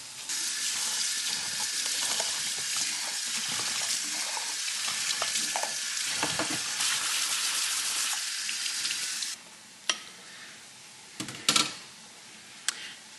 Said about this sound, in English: About half a pack of ground turkey, and I used half a yellow onion. So I'm just going to brown these